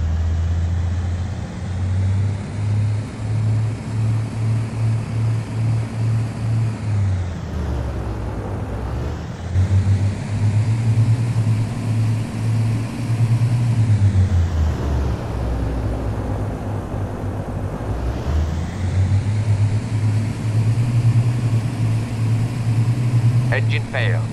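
Airliner engines in a flight simulator game spool up under full throttle for takeoff, a loud steady drone with low throbbing hum that rises and swells twice in separate runs, briefly dropping away between them.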